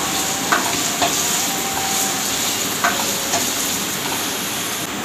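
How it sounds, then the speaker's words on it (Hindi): Green chillies and chopped onion frying with garlic in a pan, a loud continuous sizzle with a few light utensil taps and scrapes, no talking. "ये लहसुन फ्राई हो गया, अब ये हरी मिर्चें और चॉप की हुई प्याज डाल रही हूँ मैं"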